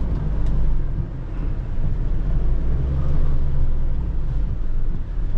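Engine and chassis of a Mitsubishi Triton Single Cab pickup driving off-road over a bump, a loud dense low rumble with road roar that stays steady and close throughout, with no talking.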